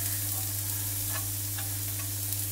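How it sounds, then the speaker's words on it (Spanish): Chopped garlic sautéing in a few spoonfuls of olive oil in a frying pan, giving a continuous close sizzle with faint crackles and soft stirring sounds, without any voices. "vamos a darle un salteadito ligero a nuestro ajo"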